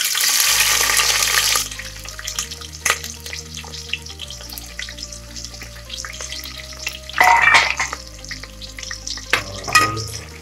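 Chopped onions dropped into hot oil in a pressure cooker for a potato and pea curry, hitting with a loud hiss, then a steady sizzle with stirring scrapes and brief clatters.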